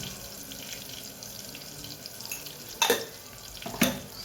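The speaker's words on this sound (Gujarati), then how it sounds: "સરસ મિક્સ કરી દઈએ." Spoon stirring turmeric, chili powder, salt and cumin into food in a pan, with a soft steady sizzle underneath and two sharp scraping clinks near the end, close and fairly quiet.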